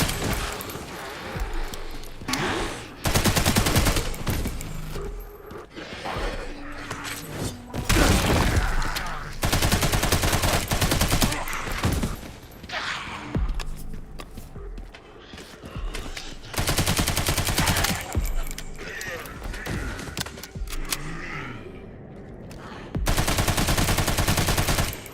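Rapid, heavy gunfire hammers a tank in Resident Evil 9, long bursts of automatic shots broken by brief pauses, loud and close, with a voice speaking in the gaps.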